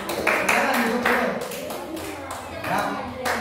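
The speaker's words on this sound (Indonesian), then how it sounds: "tepuk tangan buat kelompok tiga" A classroom group claps in rhythmic bursts for a team of students who just presented, fairly close, with voices mixed in.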